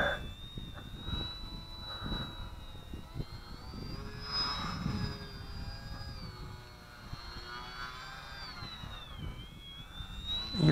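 XK DHC-2 A600 radio-controlled model airplane flies close overhead, its high electric motor whine wavering in pitch as it passes and banks, fairly faint over outdoor ambience with some faint background noise.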